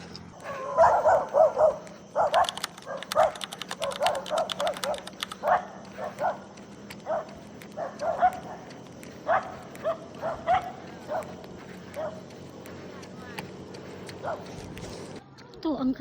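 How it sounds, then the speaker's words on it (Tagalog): A dog barks repeatedly in short bursts, moderately close, with outdoor background noise and some voices around it, during a night run about twelve kilometers in. "Ang aso."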